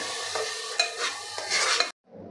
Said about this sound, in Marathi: इथे आपण तयार केलेलं वाटण आता हे वाटण आपल्याला तेल सुटेपर्यंत परतून घ्यायचं आहे